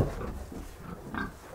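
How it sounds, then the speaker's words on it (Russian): Pigs grunt on a small village farm in Zaozerye, Belarus, a few low, rough grunts spaced through a short stretch, moderately close and not loud, with no talk over them. "И сколько у вас свиней?"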